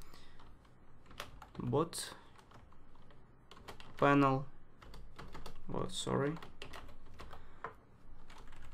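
Soft, rapid clicking of computer keyboard keys in bursts, quiet and close, with someone speaking briefly between the keystrokes.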